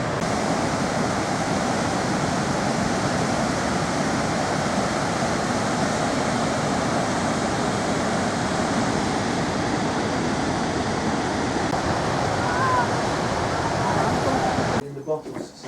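Goðafoss waterfall in Iceland roars as a steady, loud, unbroken rush of falling water that fills the whole stretch before cutting off abruptly at the end.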